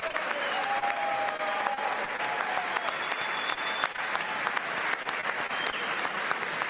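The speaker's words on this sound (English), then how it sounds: "He's greeted. He's applauded." Audience applauding Newt Gingrich at a Mardi Gras gathering, with dense continuous clapping that holds steady and loud throughout, while faint cheers and whistles rise through it.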